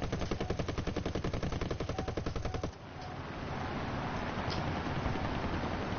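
Aircraft machine guns fire in a video game with American planes, a loud rapid burst of evenly spaced shots for nearly three seconds, then stopping abruptly into a steady engine roar and wind noise.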